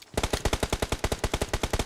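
Rapid automatic gunfire in the BGMI mobile shooter, a steady burst of about twenty evenly spaced, punchy shots fired close and loud, with no other sound.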